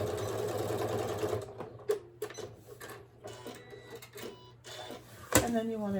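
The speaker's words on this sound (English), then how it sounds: "And then you just want to sew it on. Very simple, straight stitch" A sewing machine runs a straight stitch along a solar power bank cover in a steady whirring burst, then breaks into short stop-start runs with small clicks as the fabric is adjusted, close and fairly quiet.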